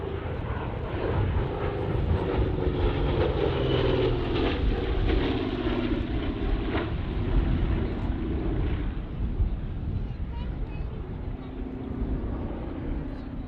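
A vintage bomber flies an airshow display at Duxford, its piston engines giving a continuous droning rumble that swells slightly and then eases, moderately distant, with a commentator's voice over it.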